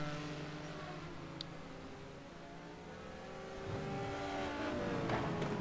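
Lamborghini race car passing at Laguna Seca in a racing game, engine whine climbing in pitch through gears, growing louder as it nears over several seconds amid the steady hum of other cars.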